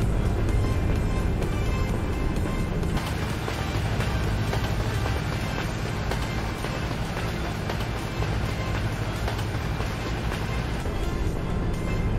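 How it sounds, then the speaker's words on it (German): A passing train in the Euro Truck Simulator 2 game, a loud, dense rumble with steady rolling clatter that fills the whole stretch without a break. "Selbst hier, hier hört man den Zug."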